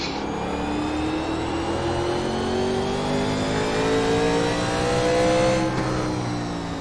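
1987 NASCAR Legends race cars in the iRacing sim at Martinsville howl loudly as engines rev and climb through the gears, several cars overlapping in rising tones before a downshift near the end, with no talk.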